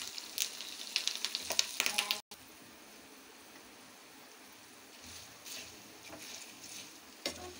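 Dry red chilies and curry leaves crackle in hot tempering oil, a brisk burst of spitting sizzle at first, then a quieter continuous fry with occasional pops.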